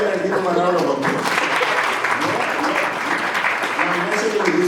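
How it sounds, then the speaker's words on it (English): Audience applause at a local government conference hall, a continuous mass of clapping heard under a speaking voice that carries on through the whole stretch. "go ahead and give him a round of applause"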